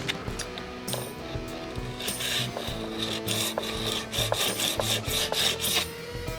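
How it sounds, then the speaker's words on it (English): A hand file rasps across a guitar nut held in a vise during a Hondo II electric slide guitar setup, giving steady back-and-forth scraping strokes up close, with brief clinks between passes. "this way I'm not grinding my file against the vise"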